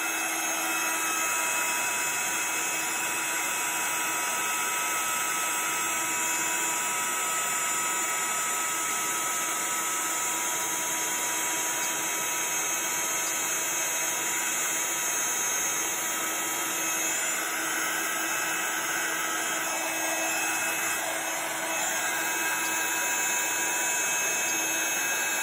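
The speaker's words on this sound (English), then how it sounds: "So just going to use our heat gun." A heat gun blowing hot air over embossing powder on a stamped craft piece, a loud continuous whirring roar held steady and close throughout.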